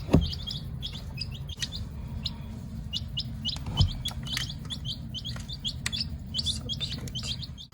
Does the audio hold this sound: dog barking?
no